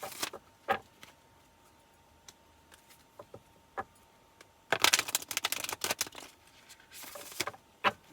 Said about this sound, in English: I'm going to take just one oracle card, Wild Offerings oracle card for you